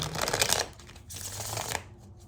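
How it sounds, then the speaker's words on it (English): A deck of tarot cards is shuffled up close in two riffling bursts, a brisk papery flutter followed by a softer second pass, then quiet. "One more shuffle. I always pre-shuffle,"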